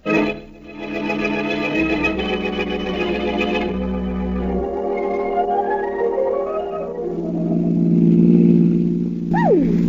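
A car engine runs steadily as a radio drama sound effect, a mid-pitched drone that swells louder toward the end, with a musical tone sweeping upward at the close.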